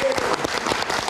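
Brief, fairly loud applause breaks out from an audience at a live talk show for a singer, a dense burst of clapping with voices mixed in among the crowd.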